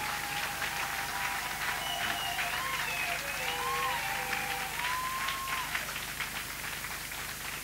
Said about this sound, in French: Acclamons-nous nous-mêmes d'abord.